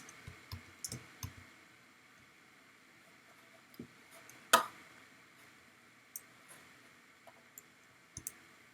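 A computer mouse clicks while working in Photoshop, with sparse quiet clicks scattered irregularly over a near-silent room and one sharper, louder click standing out midway.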